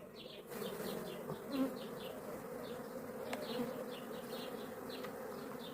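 Honey bees buzzing at a strong, somewhat aggressive hive: a dense, steady drone of many insects close by, with individual bees whining past now and then, no voices.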